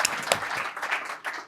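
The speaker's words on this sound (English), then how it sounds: "Round of applause." Audience applause at an innovation talk, a burst of clapping from the crowd that swells briefly and then thins out over a second and a half.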